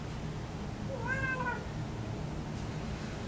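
A house cat gives a single drawn-out meow, clear and fairly close, over a low steady background hum.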